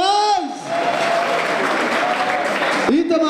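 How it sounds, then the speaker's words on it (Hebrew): An audience applauding at a football club gala, a broad continuous clatter of clapping that swells in after a sustained tone and runs for a couple of seconds before cutting off abruptly. "איפה מחיאות הכפיים לאיתמר מורז?"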